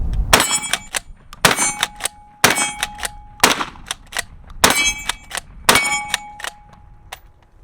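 Five sharp 12-gauge blasts from an Ermox XPro B-12 shotgun loaded with double aught buckshot, about a second apart, each followed by metallic ringing and faint clanks between shots, close and loud with no talking.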